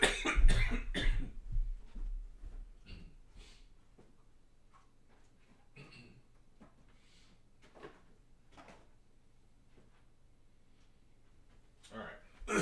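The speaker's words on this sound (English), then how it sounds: "If I can get through my cough" A man coughs a few times near the start during a live stream, sharp close bursts that give way to quiet room sounds, small clicks and knocks, then another cough-like burst at the end.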